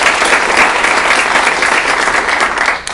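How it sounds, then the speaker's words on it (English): People at a real estate team meeting applaud a colleague with loud, dense clapping that continues steadily for about three seconds, close by, before tapering off. "give Shelly a round of applause"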